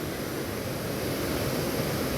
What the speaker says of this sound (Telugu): మనకి ఎత్తిపోతల అనే ఒక వాటర్ ఫాల్స్ ఉందండి